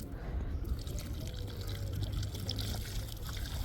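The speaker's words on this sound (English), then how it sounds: "It's not a full bucket of water, it's just a little drop of water, but it's going on now." A small amount of water poured from a bucket onto beach sand, a continuous trickling, splashing pour with light dripping over a low background rumble, no talk.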